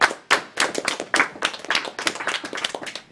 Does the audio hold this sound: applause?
yes